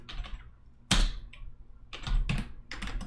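Several quick bursts of keystrokes on a computer keyboard as a command is typed, close and fairly crisp, with short pauses between runs and no voices.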